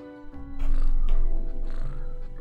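A cat purrs close by in the Death and Taxes video game, a steady low rumble lasting a couple of seconds with a faint tonal whine over it.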